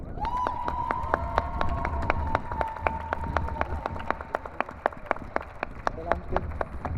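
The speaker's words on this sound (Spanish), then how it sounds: "un fuerte aplauso" Steady applause from a film festival panel audience, dense overlapping claps with sharper individual claps standing out, under a sustained tone and some voices.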